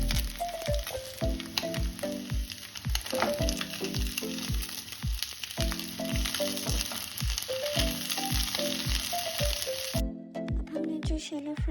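Chicken pieces shallow-frying in desi ghee in a pan, a steady loud sizzle running throughout with repeated tonal knocks and scrapes over it, the hiss cutting out briefly near the end.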